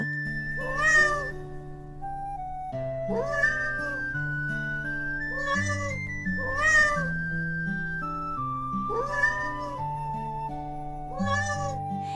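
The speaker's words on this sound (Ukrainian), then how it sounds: "Котик каже Няу-няв." A cartoon cat meows clearly about five times at a steady pace, close and loud, with soft musical tones playing underneath.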